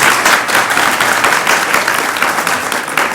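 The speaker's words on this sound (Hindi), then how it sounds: "इसी बात पे 2 ताली बजा दें।" A large audience at a religious devotional gathering applauds, loud, dense, continuous clapping close by that sustains evenly for the whole stretch with no speech.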